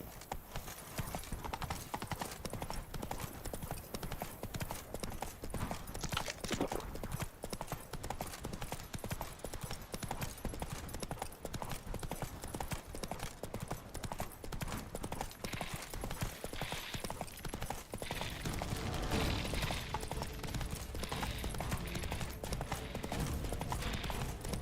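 Hooves of Roach, Geralt's horse in The Witcher 3: Wild Hunt, clip-clop in a steady galloping rhythm throughout, mixed with game ambience, a brief whinny and a short spoken line.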